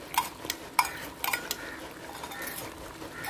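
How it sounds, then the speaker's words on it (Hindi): Ingredients for black pepper chicken karahi, with finely chopped green chillies, stirred in a pot: a few sharp metallic clinks and scrapes of a utensil early on, then quieter stirring, close and fairly faint. "मिक्स करेंगे"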